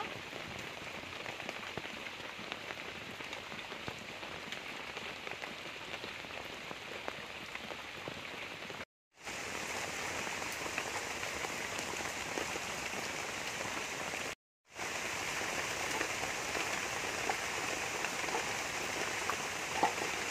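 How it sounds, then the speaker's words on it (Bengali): Heavy rain pours in a dense, continuous hiss, broken by two brief moments of silence. "বাইরে এত বৃষ্টি হচ্ছে"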